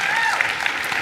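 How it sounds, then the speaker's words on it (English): Short burst of steady church-congregation applause, dense and continuous, with a faint voice or two mixed in beneath the clapping. "Can we give Jeff a huge round of applause?"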